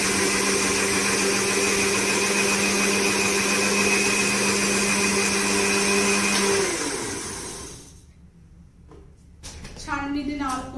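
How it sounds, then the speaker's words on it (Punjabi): A mixer grinder blends boiled tomatoes for tomato sauce with a loud, steady whirring motor for about seven seconds. It then winds down and stops, leaving quiet before a voice speaks briefly. "ਉਬਾਲਾ ਦਵਾਉਣ ਤੋਂ ਬਾਅਦ ਆਪਾਂ ਮਿਕਸੀ ਦੇ ਵਿੱਚ ਮਿਕਸ ਕਰ ਲਿਆ।"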